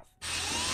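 A power drill whirs in the animated show Beavis and Butt-Head (2022), kicking in after a brief quiet moment and then running as a loud, steady, close mechanical whine.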